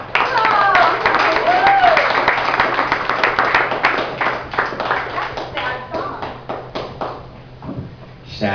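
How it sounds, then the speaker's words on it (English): An audience claps in a dense, sustained burst that tapers off over several seconds, with voices mixed in. "Now you can clap."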